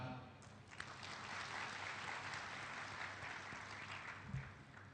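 Continuous applause fills a hall at the opening ceremony of a Thai municipal conference, steady and full-bodied from a large seated audience, with a brief murmur of voices under it.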